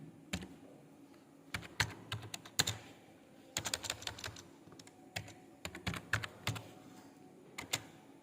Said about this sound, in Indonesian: sebelumnya kita ketik ping